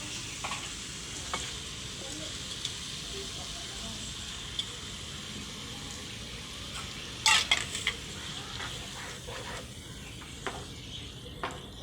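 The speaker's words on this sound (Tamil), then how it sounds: "இந்த மசாலாவோட இந்த கடமை வந்து நல்லா மிக்ஸ் ஆகி வர அளவுக்கு நல்லா கிளறி விட்டுக்கலாம்" Squid being stirred into a frying onion-tomato masala, a soft steady sizzle with occasional light utensil clinks and a brief burst of scraping near the end, fairly quiet.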